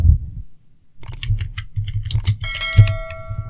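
Keys tapped on a computer keyboard while a new folder is named in Google Drive, a short run of close, quick clicks over a low hum, ending with a chime-like tone.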